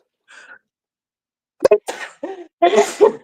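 A sneeze bursts out close to the mic, followed by a few quick vocal sounds.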